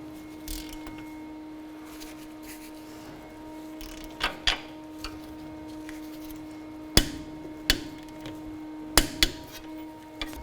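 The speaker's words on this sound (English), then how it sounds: "I'll go ahead and torque this pinch bolt down, put a wrench on the back, and we'll torque it down to 52 foot-pounds." Wrench clicks and metallic knocks from torquing a front lower control arm pinch bolt on a 2007-2013 Mitsubishi Outlander, scattered sharp ticks in a quiet garage with a steady background hum.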